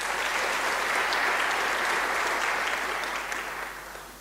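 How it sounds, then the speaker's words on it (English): A seated audience at a formal conversation event with former President Thabo Mbeki gives a warm round of applause, a full, continuous wash of clapping that holds steady and then slowly tapers off near the end. "A warm round of applause again."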